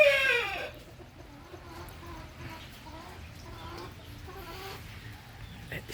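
Native and heritage chickens and chicks cluck and peep on a farm in rainy weather, a sharp call at the start, then soft scattered clucking and chick cheeps at low volume with a faint voice in the background.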